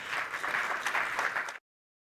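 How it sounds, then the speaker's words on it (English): An audience applauds at an annual report launch event, giving a brief round of clapping for the consumer goods and services ombud. Crowd clapping stays steady and moderate, then cuts off abruptly. "Let's give him a round of applause."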